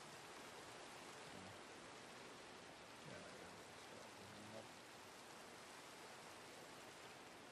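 Steady rainfall in the video game Minecraft, a faint, even hiss of falling rain continuing unbroken throughout.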